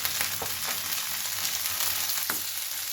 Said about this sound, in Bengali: এবার সমস্ত সবজিগুলোকে ভাজবো।